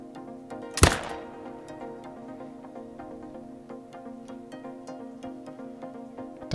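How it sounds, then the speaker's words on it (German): A single sharp rifle crack rings out near the start, a 300-meter shot at a red deer in theHunter: Call of the Wild, followed by quiet ambient game sounds with soft clicks. "Ich versuche mal einen 300-Meter-Schuss."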